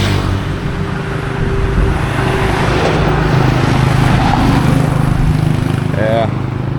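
A motorbike speeds along a street in the Philippines amid steady traffic rumble and engine noise, its pass blending into the continuous roadway drone with people talking nearby.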